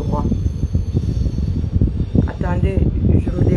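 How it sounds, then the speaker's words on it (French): A passing train rumbles loudly and continuously close by, with an electric fan adding a steady whir underneath and faint squealing wheel tones near the end. "je me débarrasse d'abord du bruit du train et du ventilo"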